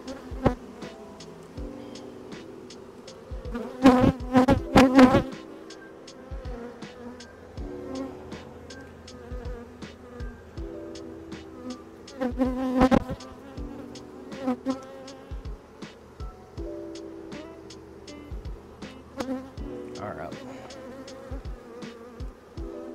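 Honey bees buzz steadily around an open hive during a sourwood nectar flow in western North Carolina, a dense swarm drone with louder passes of individual bees close by and some clicks of hive handling.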